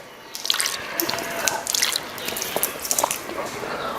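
Water trickles and drips in uneven splashes as it is drawn into the nose during wudu ablution, a close, steady wet patter with small irregular drops and no speech.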